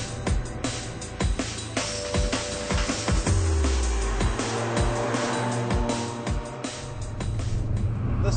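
A Ford Sierra touring-style car engine howls through a run with turbo surge, showing steady harmonic lines, pitch sweeps as gears change and repeated sharp transients, loud and continuous with no talk.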